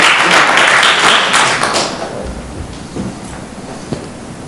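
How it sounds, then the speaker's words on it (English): Audience applause at the Amazing Shake 2018 finals, a dense loud wash of clapping that fades over the last half into a thinner patter. "Let's have a round of applause for Anna Lucia."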